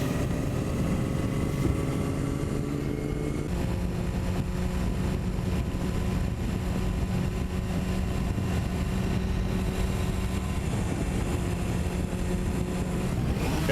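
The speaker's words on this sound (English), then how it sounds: "Just pay attention how the engine sounds." A more than 30-year-old engine on its original fuel pump runs steadily as its fuel runs low, a continuous droning hum with a slight shift in tone partway through and no talking.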